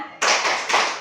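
A group of seated teachers and staff stand for a tepuk semangat, giving three loud, closely spaced rounds of unison clapping, with no talk.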